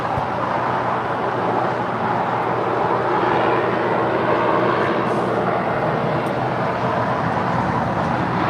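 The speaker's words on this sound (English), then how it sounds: "This is a freshly painted 767-400ER." Freshly painted Boeing 767-400ER airliner at LAX, a steady, loud broadband jet engine roar that holds even throughout, heard from moderate distance with no talk.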